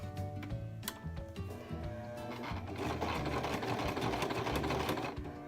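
A sewing machine runs a straight stitch through paper, starting with a few slow ticking stitches and then settling into a fast, steady mechanical whir, close and clear.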